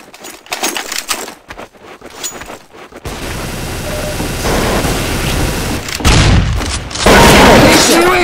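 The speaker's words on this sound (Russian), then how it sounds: "Отличный выстрел." Rapid bursts of Counter-Strike: Source gunfire and booming shots, loud and dense, with a voice speaking in the quieter opening stretch.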